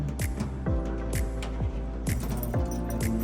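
Laundry room keys jangle and clink repeatedly in close, steady handling, with bright metallic rattles throughout.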